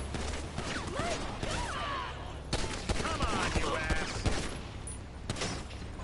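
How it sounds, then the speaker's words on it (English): Gunfire rattles through a Grand Theft Auto game session, sharp repeated shots and bursts scattered across the moment under a player's excited talking, with other game sounds mixed in. "Oh, I'm being shot at. He's shooting at me."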